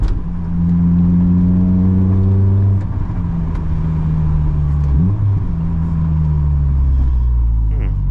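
A stiffly sprung car drives over a bumpy road, its engine droning loud and steady with gear shifts and thumps from the suspension.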